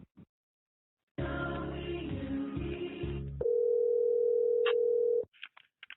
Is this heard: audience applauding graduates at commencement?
no